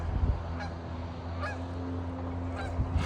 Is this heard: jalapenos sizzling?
no